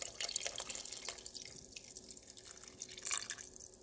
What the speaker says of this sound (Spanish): ahora sí le vamos a agregar el demás consomé de pollo y ya podemos completar con agüita